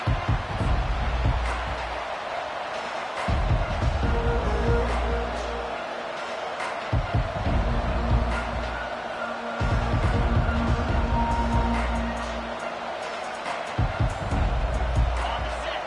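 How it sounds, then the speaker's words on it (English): Football stadium crowd at a college game between UNC and Texas A&M, a loud sustained roar with swelling cheers and bursts of noise under a commentator's voice, filling the whole stretch. "This crowd bringing an ear-splitting welcome to their visitors."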